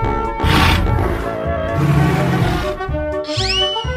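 A dinosaur in a 3D animal slide video game gives a loud, sustained roar lasting a few seconds over game music, with a rising electronic sound near the end.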